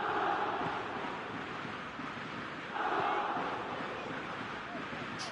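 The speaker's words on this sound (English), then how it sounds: "Crowd appreciates good football all round there." A football stadium crowd reacts to play with a steady, broad roar of voices and applause, swelling briefly midway, with wind buffeting the microphone.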